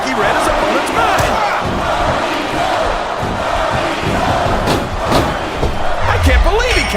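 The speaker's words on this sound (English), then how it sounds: "Now the fans start to cheer for him" In the wrestling video game WWE SmackDown vs Raw 2007, a loud arena crowd roars and cheers in a continuous wash of noise, punctuated by slams and thuds from the ring.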